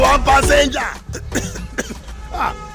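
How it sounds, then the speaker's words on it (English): Cough from a passenger on a bus amid loud background music and speech, with a few short harsh bursts in the second half mixed under the other sound. "this kind cough na serious matter"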